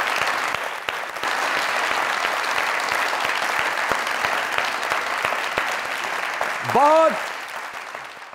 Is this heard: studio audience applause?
yes